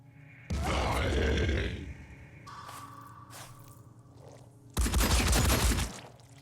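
Grenades blasting in the tactical video game Phoenix Point: two loud, heavy explosions a few seconds apart, each a booming roar that trails off, with fainter clatter and impacts between them.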